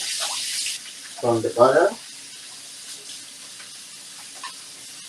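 Kitchen tap water runs in one short splashing burst while hands are washed, preceded by a faint hiss, with a few quiet words spoken.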